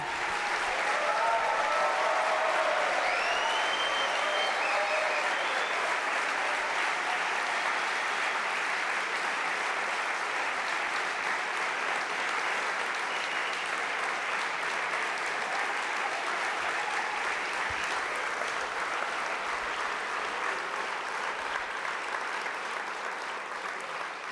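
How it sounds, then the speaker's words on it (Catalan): Loud, sustained applause fills the hall at the closing of a Catalan political party's national convention, a thick wash of many hands that stays strong and unbroken throughout. "Us demano un fort aplaudiment"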